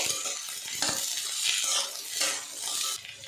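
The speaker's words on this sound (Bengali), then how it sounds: "পেঁয়াজের সাথে বিনস বেশ কিছুক্ষণ নাড়াচাড়া করে ভাজা করে নেব" Beans and onion stir-fry in a pan over low heat, a steady hiss of sizzling with scraping strokes of a spoon in a continuous rhythm, close and moderately loud.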